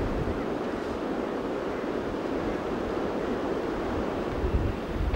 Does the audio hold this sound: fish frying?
no